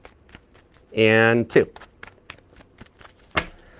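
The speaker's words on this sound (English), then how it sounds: "Give me 2 shuffles." A deck of tarot cards is riffle-shuffled once in a short, loud burst of flapping card noise, followed by a few faint card taps, with a person speaking briefly around it.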